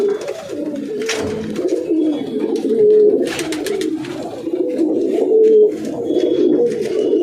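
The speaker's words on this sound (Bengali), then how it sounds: "এটা কিন্তু অন্ধ্রা পায়রা অন্ধ্রা পায়রা" Andhra pigeons coo in low, rolling, repeated calls, close by and layered over one another, with a faint chirp here and there and no speech.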